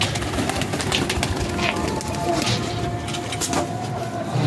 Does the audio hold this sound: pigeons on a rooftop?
yes